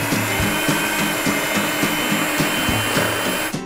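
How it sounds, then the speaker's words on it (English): Four eggs are beaten lightly in a bowl for an olive oil cake, a loud, steady whirring with evenly spaced rhythmic pulses that cuts off at the end. "Now, we're just beating the eggs lightly."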